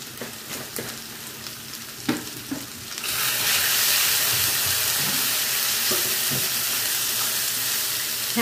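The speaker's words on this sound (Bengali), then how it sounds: "সামান্য জল দিয়ে একটু কষিয়ে নেব যাতে মশলা পুড়ে না যায়।" Ground spice masala for a fish roe kalia sizzles and fries loudly in a pan, starting with a few soft stirs and clinks before a sudden steady, strong hiss of frying that continues to the end.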